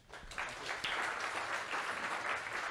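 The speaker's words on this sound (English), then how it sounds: "So, round of applause" Audience applause after a showcase talk, even, dense clapping from a moderately distant crowd, rising slightly after the first moment and continuing steadily.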